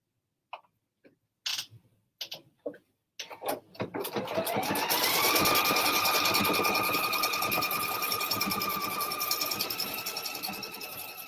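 A PFAFF sewing machine runs a floating stitch at steady speed after several short start-stop bursts, its motor whirring loudly and continuously with a faint mechanical tone, up close with no talking.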